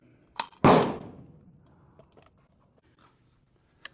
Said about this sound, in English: I've got a magazine here. We'll load a few in.